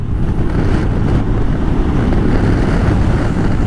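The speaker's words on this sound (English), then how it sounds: "A little bit windy, but not bad at all." Heavy, low wind rumble buffeting the microphone continuously, with no voices.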